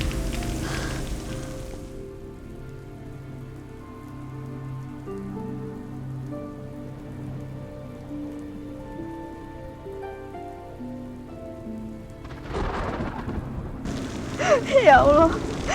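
Steady rain falls throughout, a soft continuous hiss beneath a quiet background music bed, growing louder and more textured near the end.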